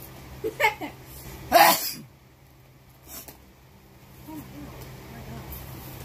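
A couple of quick sharp sneezes, close and abrupt, followed by quieter breathing and small noises.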